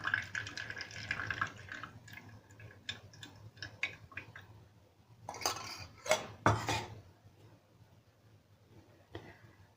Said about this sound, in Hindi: कोई भी एक बर्तन लीजिए और सिंपल छन्नी से जैसे चाय वगैरह छानते हैं वैसे ही हमें छान लेना है।